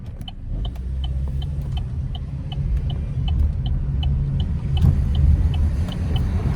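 A 2012 Buick Regal Turbo with a 4-cylinder turbo engine pulling hard under acceleration, a steady, loud close rumble of engine and road noise with a faint rising whine, no talk.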